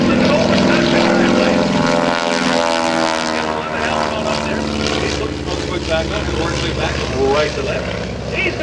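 A bone stock Stearman biplane's propeller engine drones loud and close throughout an airshow aerobatic routine, its pitch shifting as the plane maneuvers, with an announcer talking over it.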